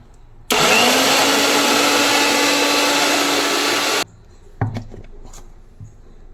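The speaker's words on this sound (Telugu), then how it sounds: "ఇలా మెత్తగా గ్రైండ్ చేసుకోవాలి" Mixer grinder whirring steadily and loudly as it blends aloe vera and leaves into a paste, running about three and a half seconds before cutting off abruptly, followed by a few soft clatters.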